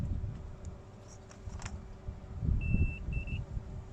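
A thin electronic multimeter continuity beep sounds twice while testing solar panel wiring, one longer tone then a shorter one, over low background rumble and faint clicks.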